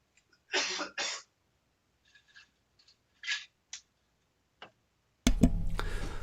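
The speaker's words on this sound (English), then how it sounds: "Just a minute, I'm going to cough." A couple of short, close coughs, then a few faint clicks and a quick throat noise, followed by a burst of louder rustling at the end.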